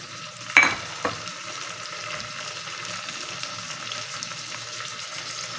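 Onion and tomato frying in mustard oil give a steady, close sizzle throughout, with a couple of sharp clatters near the start as ingredients go into the pan. No one speaks.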